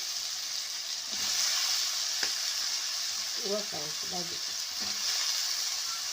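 Chopped ridge gourd sizzles and crackles steadily in a hot wok, with a few scraping stirs and clinks partway through.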